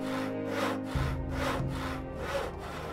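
A saw cutting through wood in the video game Gothic 2, with about five even back-and-forth rasping strokes in a steady rhythm, loud and close with no talking.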